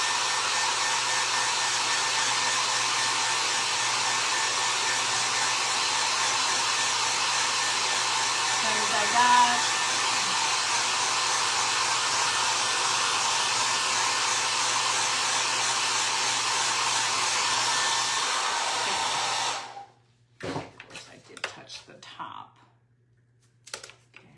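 Hair dryer blowing on a paper mache Easter rabbit, a loud continuous whir for about twenty seconds before it switches off, followed by a few light clicks and handling sounds.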